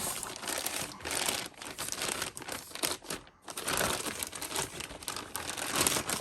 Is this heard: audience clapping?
no